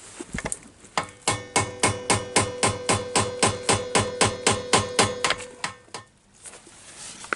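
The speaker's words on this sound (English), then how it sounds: "just put a screwdriver in there, tap it, and it will come out" A hammer taps a screwdriver to knock out the armrest pin on a BMW E34. About twenty sharp, evenly spaced metallic knocks sound close up, then stop.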